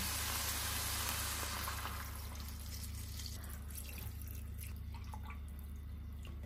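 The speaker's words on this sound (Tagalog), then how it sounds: "Lalagay na tayo dito ng tubig" Water pours loudly and steadily into a cooking pot of beef at first, then tapers into softer trickles and drips over a low background hum.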